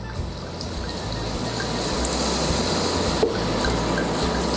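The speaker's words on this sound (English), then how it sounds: "let me pour my wine in there" Non-alcoholic wine pours over fruit in a kitchen, a continuous close trickle and splash of liquid that holds steady for several seconds.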